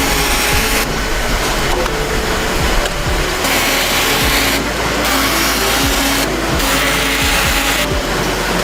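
A corner-rounding machine in a playing card factory smooths the rough corners of freshly cut cards. It gives a loud, steady mechanical whir and rumble that holds throughout, with brief recurring shifts in its hiss.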